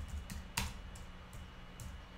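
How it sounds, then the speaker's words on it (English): Keystrokes on a computer keyboard while entering a search term into a software search box, a handful of soft, spaced clicks with one sharper tap, fairly quiet over a low background hum. "head up to the search box and in here type in hobby"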